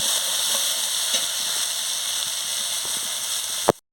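Poppy seed (posto) masala fries in a pan with a steady, bright, loud sizzle and faint stirring clicks, ending in a sharp clatter before silence.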